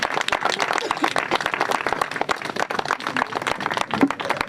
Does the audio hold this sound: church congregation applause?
yes